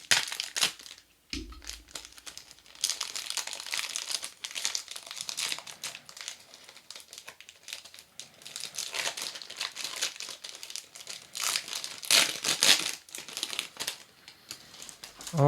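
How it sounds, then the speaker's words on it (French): Cardboard and plastic packaging crinkles and crunches as a package is cut open with a box cutter and pulled open, with scraping, tearing bursts and rustling throughout. "Alors, attendez, je vais l'ouvrir. J'ai pas de ciseaux, mais j'ai le cutter."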